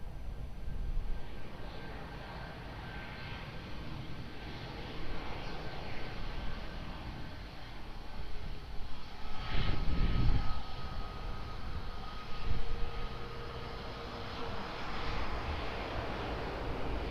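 An airplane lands at Lisbon Airport on runway 02, its engine roar a distant, broad rumble that slowly swells to a peak and then fades against steady background noise.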